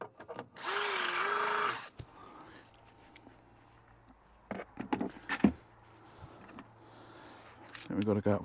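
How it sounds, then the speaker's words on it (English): A power drill whines loudly for about a second as it bores a pilot hole in a van for a security lock, then stops, followed by clicks, clatter and quiet talk. "Just makes the drilling a lot easier rather than trying to drill a big hole straight away."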